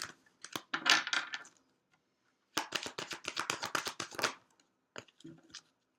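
A tarot deck being shuffled by hand, crisp rapid riffles of cards in two bursts separated by a short pause, then a few scattered soft taps, close and fairly quiet with no talking.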